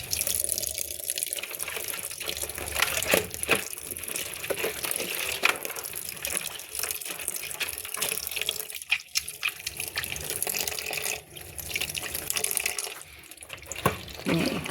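Water pours steadily from a household tap at close range, a continuous hissing splash with occasional clinks and knocks mixed in, lasting throughout.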